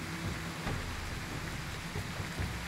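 Steady rain in the Wartales video game, a soft continuous hiss of drops pattering down, fairly faint and even throughout with no voices over it.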